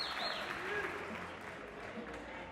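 Crowd at a PBA bowling tour finals applauding and cheering for a bowler, a steady wash of clapping under a voice talking throughout.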